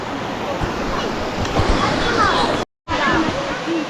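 River water rushing steadily at an outing spot, a broad continuous wash close by with people talking faintly underneath, briefly cut off near the end before resuming.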